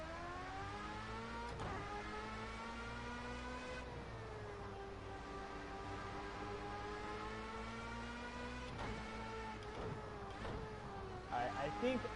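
A car laps a race track in a PS4 driving game: a steady, fairly quiet engine whine with rising and falling harmonic pitch as it shifts and accelerates. A voice talks over it.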